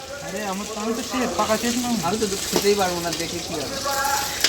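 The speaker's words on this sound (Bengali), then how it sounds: "চিলি চিকেনের জন্য চিকেন ভাজা হচ্ছে" Chicken frying for chili chicken: a soft background sizzle of oil, heard under a voice talking throughout.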